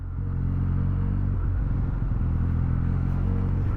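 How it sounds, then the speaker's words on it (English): A Benelli TNT 300 twin-cylinder motorcycle engine runs loud and close with a smooth, deep throb, holding a steady note and briefly wavering mid-way before settling back. "the Benelli sound is so amazing, man. Twin cylinders, it's so smooth."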